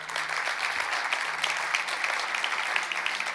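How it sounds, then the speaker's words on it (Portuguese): A church congregation gives strong applause to the Lord during a gospel service, with dense clapping carrying on steadily for a few seconds and scattered sharper claps standing out. "Quero ouvir um amém e um aplauso bem forte ao Senhor."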